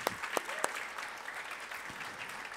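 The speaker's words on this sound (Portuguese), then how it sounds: "eu quero pedir aplauso para os professores do IFES que estão aqui nessa noite" Sustained applause from an audience at a formal education-awards ceremony honoring teachers, a steady dense wash of clapping with a few sharper claps standing out near the start.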